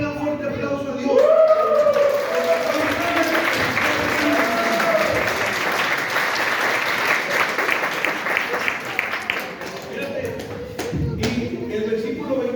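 A church congregation applauds during a service, a sustained burst of clapping lasting many seconds, with a voice talking and calling out over the clapping as it tapers.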